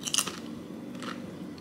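Crisp crunching of lime tortilla chips being bitten and chewed close up, a sharp crunchy burst at the start fading into a few softer chews.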